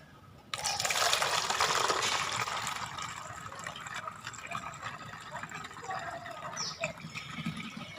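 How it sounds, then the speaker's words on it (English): Homemade rose bioenzyme cleaner pouring through a funnel into a bottle, a steady close liquid gush that starts abruptly and settles into a continuous softer trickle. "So here I will just put it into the a funnel and store it in a bottle."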